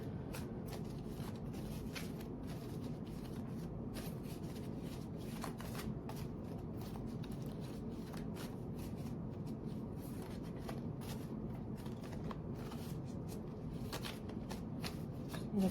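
Tarot cards being shuffled for a reading, a steady close papery riffling that goes on without a break, with no talk over it.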